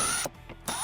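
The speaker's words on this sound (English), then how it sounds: "we're going to take off the factory license plate mount, and we're going to do that with a 5/16 socket" A ratchet with a 5/16 socket working loose a license plate mount, two quick close clicking bursts of the pawl separated by a short pause.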